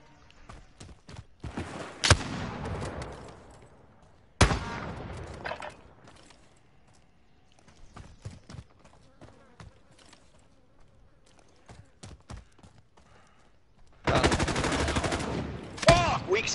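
Shotgun gunfire in the video game A Way Out comes as loud, sharp blasts, a couple of isolated shots early on, then a dense burst of firing near the end, with quieter stretches between.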